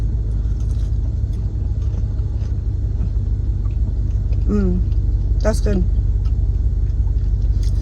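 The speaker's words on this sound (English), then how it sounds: "So if the engine noise is annoying, let me know." Steady low engine rumble fills a moving car's cabin throughout, with a person speaking briefly over it.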